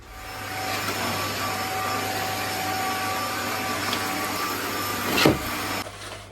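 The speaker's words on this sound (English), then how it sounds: "Don't mind me, just hoovering the grass, aren't I?" A vacuum cleaner drones steadily as it hoovers grass in a garden, a constant loud whine with a brief rising swoosh near the end before it stops.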